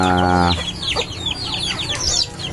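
Native chickens at feeding time: a close rooster-like call opens, then busy overlapping clucks and chirps from several birds fill the rest.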